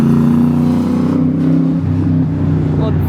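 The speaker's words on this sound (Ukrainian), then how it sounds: "машинка їде" A Formula 1 car drives past at a Japanese circuit, its loud, sustained engine drone heard from the crowd, holding steady and shifting slightly in pitch as it goes by.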